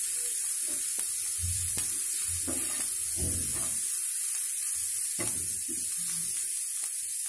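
Corn kernels frying in hot oil for a crispy fried corn snack give a steady close sizzle. Scattered louder pops and spits break through at irregular moments.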